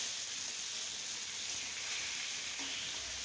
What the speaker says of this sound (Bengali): দুপাশ আমি খুব ভালো করে ভেজে নিচ্ছি